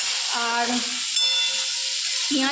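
An egg curry masala of onion, chili, tomato, ginger and garlic fries in a pan with a steady, loud sizzle and hiss. Faint tonal hums run beneath it, and no voices are heard.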